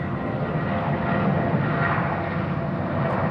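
A Thai Smile airliner on the runway at Suvarnabhumi Airport in Bangkok gives off a steady, broad engine roar that holds at a constant level throughout, with no talk over it.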